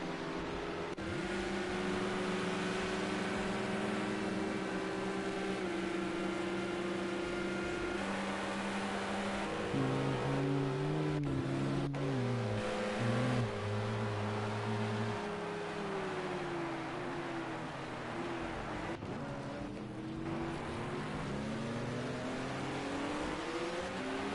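Race cars at the Fuji GP circuit, including a BMW, roar down the straight with a continuous loud engine drone that shifts pitch as gears change and cars pass, sustained throughout.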